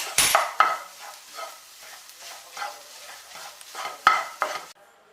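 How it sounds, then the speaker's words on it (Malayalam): A spoon stirs egg noodles with added cheese in a pan, giving repeated scraping and clinking strokes with a soft sizzle beneath, no voices. "ഈ ചീസും കൂടി ഇതിൻ്റെ കൂടുതൽ നമ്മൾ ഇളക്കി കൊടുക്കുക"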